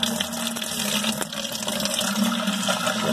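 Soapy liquid pouring into a bucket beside a shop-vac, a steady watery rush and splash that continues without a break.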